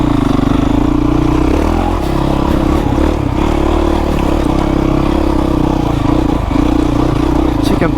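A 20-year-old 2005 Honda CRF450X dirt bike on a test ride, its engine droning steadily and loudly throughout with slight dips, close and continuous, with some clatter and rough-terrain noise.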